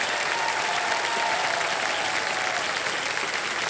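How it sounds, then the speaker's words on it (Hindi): Studio audience on the Hindi quiz show Kaun Banega Crorepati claps in a dense, steady burst of loud applause that continues without talk throughout. "बहुत बड़ा तालियां बज जाए इनके लिए।"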